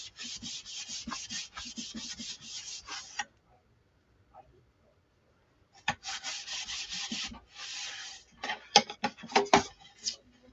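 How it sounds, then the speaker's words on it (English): Hand sanding a wooden chalk sign smooth: steady scratchy rubbing strokes in close bursts, a short pause, then more rapid uneven back-and-forth sanding. "I just wanted to sand it and get it a little bit smoother."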